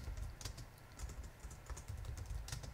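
Typing on a computer keyboard, a steady stream of close, light key clicks over a low background hum, with no voices.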